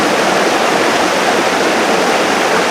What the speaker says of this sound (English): Found myself a creek crossing.